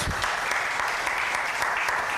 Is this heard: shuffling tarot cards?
no